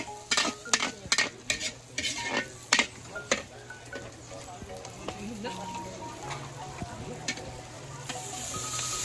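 Onions and garlic sauté in a pan, with a steady sizzle under a quick series of sharp utensil scrapes and taps that thin out as the frying carries on.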